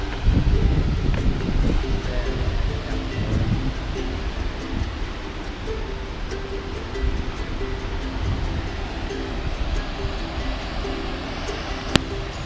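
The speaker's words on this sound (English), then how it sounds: "we have a waterfall behind us over there" A rainforest waterfall rushes steadily in the background during rain, a broad continuous roar at moderate level with no voices over it.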